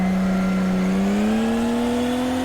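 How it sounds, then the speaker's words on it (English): A car engine holds a steady high rev while drifting, its tone slowly climbing as the throttle opens a little more, loud and close with no talk. "Gradually build up a bit of revs, little lift, bit more throttle."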